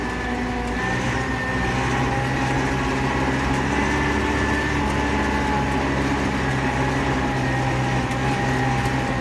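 A steady DTZ-504 tractor engine drone fills the cab while driving uphill, a constant hum with a whining high tone on top, unbroken and without voices.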